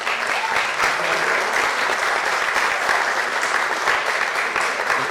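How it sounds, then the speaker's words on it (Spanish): An audience at a book presentation applauds with dense, sustained clapping from many hands, steady and fairly loud from start to finish. "les pido un aplauso para Rafa"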